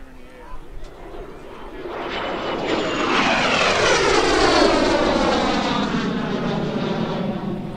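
An L-39 jet makes a loud, fast low pass at the 2015 Lancaster Airport Community Days airshow: a roar that swells from faint to overwhelming, then falls in pitch as the jet sweeps by.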